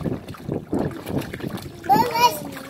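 Splashing in cold swimming water comes in several rhythmic close strokes while a voice chatters over the last part.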